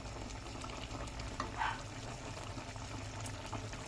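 Steady sizzling and bubbling from a pan of pork steak and white onions cooking, with a brief utensil clink partway through; no talking.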